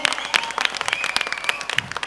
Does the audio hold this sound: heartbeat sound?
no